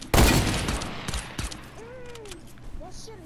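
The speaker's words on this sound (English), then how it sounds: "He shot me once." Gunfire in a video game: a loud burst of rapid shots at the start, then scattered quieter reports, with faint voices in the background.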